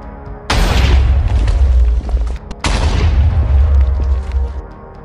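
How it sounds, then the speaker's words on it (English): A stationary Russian tank detonates after a Ukrainian FPV drone strike, giving two loud, close booming blasts with a roaring rumble that carries between and after them, with no voices. "a stationary tank which detonates in a massive explosion"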